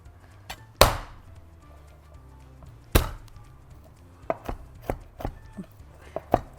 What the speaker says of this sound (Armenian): այսպես ու մանրացնում ենք։